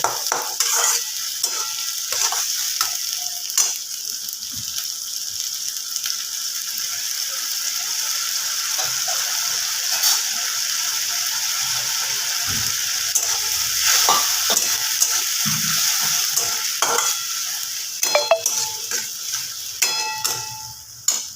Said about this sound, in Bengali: গ্যাসের সিমটা একটু বাড়িয়ে এটাকে বেশ ভাজা ভাজা করে দেব